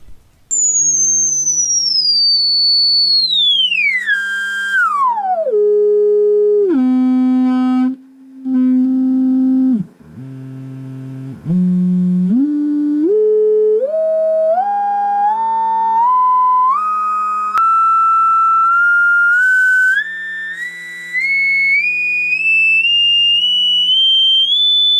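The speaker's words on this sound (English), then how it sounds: "I'm going up and down through the frequencies to have an idea on how the VCO sounds like." An ICL 8038 voltage-controlled oscillator emits a loud, pure tone that glides smoothly down from high pitch to low, wobbles briefly in the low range, then climbs steadily back up again, with a few short dropouts.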